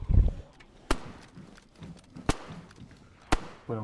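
Gunshots in the DayZ video game, three sharp, isolated cracks spaced about a second apart over a quiet background with low rumbles and faint shuffling.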